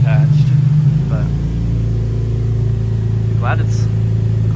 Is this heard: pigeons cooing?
no